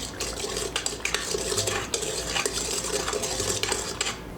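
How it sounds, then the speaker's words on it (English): A spoon stirs warm water, sugar and yeast together in a bowl, giving continuous scraping and light clinking against the sides at close range, with no talking. "We're going to mix it together and leave it until it's bubbly and frothy."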